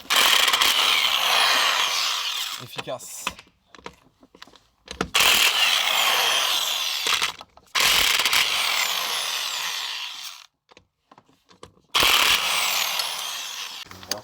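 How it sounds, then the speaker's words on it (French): Bursts from a 220 V electric impact wrench loosen torqued bolts on a Ford Escort 1.8 D's suspension, loud and close, with several hammering runs separated by short pauses and a brief spoken word. "Vous allez voir l'efficacité d'une clé à choc en 220 en direct live."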